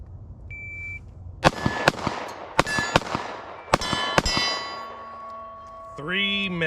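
A string of sharp metallic shots cracks out from a Springfield XDS .45 pistol, about eight rapid, loud reports in an uneven rhythm, ringing against steel targets, followed by a shot-timer beep at the end.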